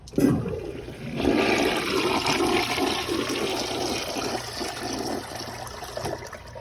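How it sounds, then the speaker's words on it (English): Toilet flushing on a flushometer valve: a loud opening rush of water followed by a steady, sustained gush and trickle that continues close up throughout, with no talking. "the tank maybe will be good for another flush"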